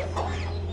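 A hen clucks briefly over a steady low hum in a rural farmyard setting, the call close and fairly loud.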